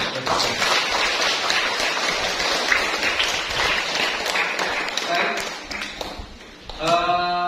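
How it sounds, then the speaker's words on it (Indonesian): A congregation claps in a church after Palm Sunday mass, a dense and sustained burst of applause that fades near the end before a short tonal voice or sound enters. "Tepuk tangan."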